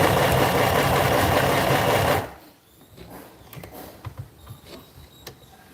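Sewing machine running at steady speed with a loud whirring hum for about two seconds, then stopping. Quiet handling clicks and faint room noise follow.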